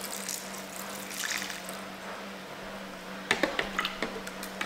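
Cold water pours from a tap into a pot of pork hocks and pig feet, a soft, steady trickling rush with faint splashes and a low hum in the background.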